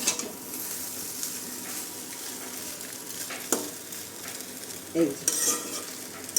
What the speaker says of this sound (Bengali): খানিকক্ষণ নাড়াচাড়া করছি